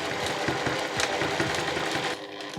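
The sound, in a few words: sewing machine stitching a seam on a tote bag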